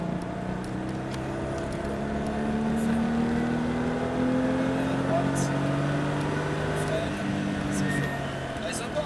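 A small car's engine accelerates steadily during a drive, its rising hum heard close from inside the cabin, with people talking over it.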